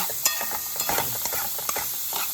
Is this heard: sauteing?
yes